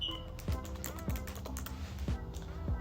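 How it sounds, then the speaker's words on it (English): Keys clatter on a computer keyboard as a name is typed into a lesson-plan template, soft quick taps in short bursts, close and quiet. "You can come up here, teacher name, and I'm gonna type my name."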